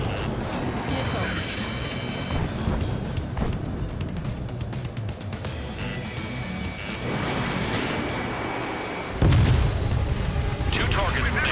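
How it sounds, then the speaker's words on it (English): Combat in the Ace Combat 7 flight game: a missile launches amid a dense wash of jet roar, booms and explosions, with radio chatter and voices running beneath the noise. "Missile."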